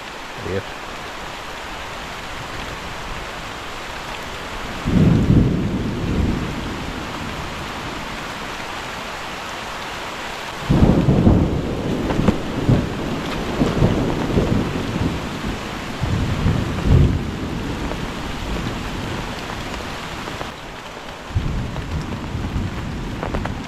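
Heavy monsoon rain pours steadily in Kerala while loud, low rumbles of thunder break through in several long bursts over the constant hiss.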